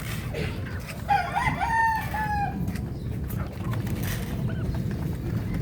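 A rooster crows once, fairly close, over a steady low background rumble of rain, with a few faint clucks afterward.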